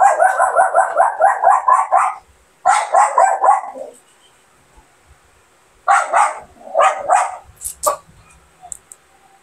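A dog barks in two bursts of rapid, loud, close yaps and yips, then a pause and a final flurry of barks with higher whining calls, heard alone without talk.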